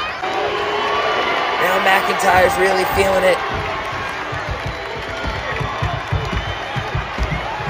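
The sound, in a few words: wrestling crowd cheering at WrestleMania match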